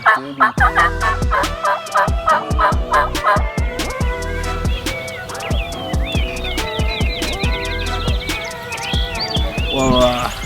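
Wild turkeys, a tom and a couple of hens, gobble repeatedly and loudly, rapid rattling calls in bursts close by, with other bird calls scattered through.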